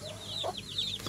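Soft chirping and clucking from young chickens, several short calls scattered over a low steady background hum.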